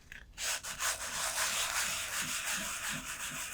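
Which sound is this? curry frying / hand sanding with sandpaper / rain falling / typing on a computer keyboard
hand sanding with sandpaper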